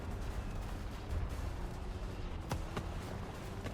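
Artillery shells landing in War Thunder while playing the CV 90105 light tank: two sharp distant blasts late on, set against a steady rumbling battlefield and engine drone.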